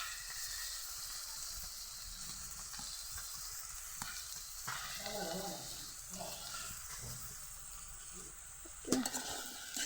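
Tomatoes fry in a pan with onion and chili and are stirred, giving a soft continuous sizzle and hiss. Faint scraping and shifting textures sit underneath, and a brief louder knock comes near the end.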